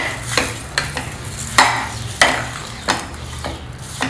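Candy sugar (mishri) being stirred into mashed rice with a spoon, a rhythmic series of about eight wet scraping strokes, close and fairly loud.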